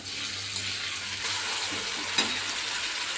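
A soft, steady sizzle rises from a pan where ginger, garlic and tomato masala is sautéed for a drumstick bhaji, faint and continuous with occasional light stirring taps.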